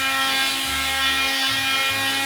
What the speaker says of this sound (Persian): اینجوری خیلی راحت میشه باش سنباده زد.